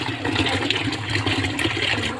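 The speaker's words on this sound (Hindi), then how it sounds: "दाल को मैं धो रही हूँ।" Red lentils and mung dal are washed in water, producing close, continuous swishing and sloshing with small splashes and no talk.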